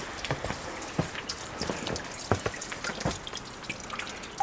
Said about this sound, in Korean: 어떻게 이렇게 물이 떨어지지? 빗물도 아닌데.